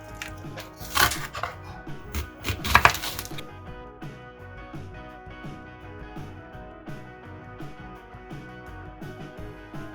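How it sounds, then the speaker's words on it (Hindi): Onions sliced into julienne strips with a knife on a board: a burst of quick, crisp chopping strokes early on, then softer, sparser cuts over background music. "अब हम प्याज को भी इसी तरीके से जूलियन कट में काटेंगे।"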